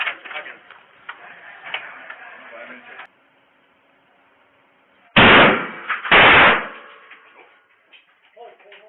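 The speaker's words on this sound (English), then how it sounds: "Where those shots come from?" Gunshots ring out in an indoor stairwell setting amid a police breaching operation, two loud close blasts a second apart following low murmuring chatter and a quiet stretch, with soft voices afterward.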